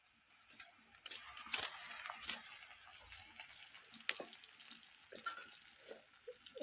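Potatoes fry in a pan with a mustard, garlic and ginger paste, giving a faint, steady crackling sizzle dotted with small pops and occasional louder spits throughout, with no talking.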